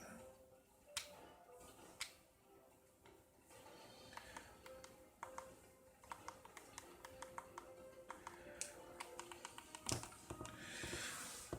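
Fingers tap out quick, irregular clicks on a small TZ P9 Mini wireless keyboard, close up and fairly faint, with a steady hiss behind the keystrokes.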